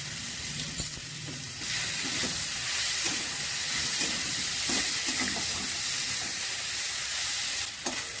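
Ground cumin and coriander spices sizzling in hot oil while being stirred for a rohu fish and potato curry, a continuous loud frying hiss with occasional scraping stirs, no talking.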